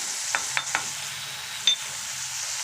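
Broad beans with salt and turmeric being stirred in a pan, with three soft scraping strokes early on and a later clink of the spoon against the metal over a faint background hiss.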